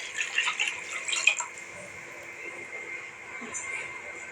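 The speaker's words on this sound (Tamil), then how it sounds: "எந்த கப்பில் நம்ம ரவை எடுக்கணுமோ அதே கப்பில் 1 கப் ரவைக்கு 2 கப் தண்ணி ஊற்றிக்கலாம்." Water poured into a cooking pot, two cups for every cup of semolina, for rava khichadi: a close splashing stream for about a second and a half, then a faint lingering trickle and room noise.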